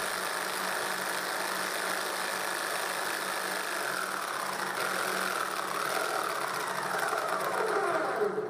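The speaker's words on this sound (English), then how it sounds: "with the shoe against the sheet I have just cut, I cut the slot for the blade" A saw cuts a slot into a plywood sheet, its shoe resting against the board. A continuous buzzing motor drone holds steady, then its pitch shifts and drops toward the end.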